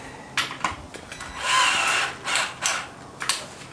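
A power drill drives screws into a wooden support of a homemade grind rail, making several short, uneven bursts of whirring and grinding close by, with brief pauses between them and no speech.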